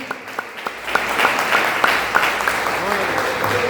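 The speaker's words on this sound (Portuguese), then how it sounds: "Palmas para Jesus, meus irmãos." Church congregation clapping for Jesus during a Communion service, a steady crowd applause that swells after a few scattered opening claps, with a faint voice and some sung tones running underneath.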